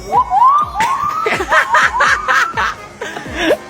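A voice imitates a wailing police escort siren, rising and falling tones repeated in quick bursts, close and loud, with light laughter mixed in.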